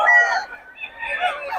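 A rooster or chicken calls out nearby in a farmyard, a loud drawn-out crowing cry that dips briefly and then rises again.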